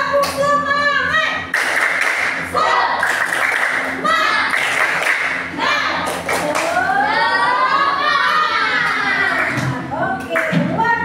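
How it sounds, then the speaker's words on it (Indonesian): A class of fifth-grade children performs the 'tepuk semangat' spirit clap, a rapid rhythmic series of claps in patterned bursts, close and loud, with a teacher and children speaking and chanting over it. "Yuk, sekali lagi. Tepuk semangat."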